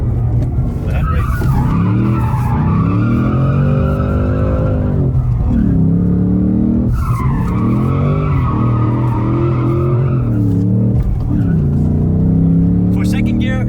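A Ford Mustang Dark Horse drifts in first gear using its factory handbrake, tires skidding and squealing loudly through the turns in long sweeping bursts over a constant engine roar, with someone talking throughout.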